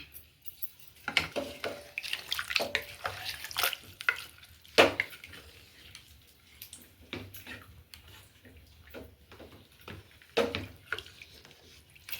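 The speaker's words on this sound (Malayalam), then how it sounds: "കുറച്ച് കരിവേപ്പില ഇടാം നമുക്കൊന്ന് ഇളക്കി കൊടുക്കാം" Coconut milk stirred with curry leaves in a pot for Onam koottukari gives soft, intermittent scraping and liquid sloshing, fairly faint and close, with no one talking.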